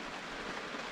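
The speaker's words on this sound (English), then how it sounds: "as you can see it's raining a lot" Heavy rain pours steadily in Denmark during a solo sailing trip, a dense, even hiss of falling drops filling the whole moment with no voices.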